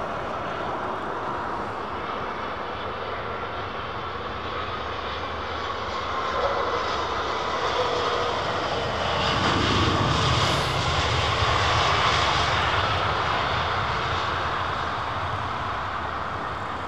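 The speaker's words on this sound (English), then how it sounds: "If you fancy a little bit of A380 touchdown action, folks." Airbus A380 touching down at London Heathrow Airport, a heavy, broad jet roar that swells toward the middle and then holds, steady and fairly close, with no talk.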